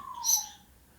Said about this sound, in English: you can hear the bird in the background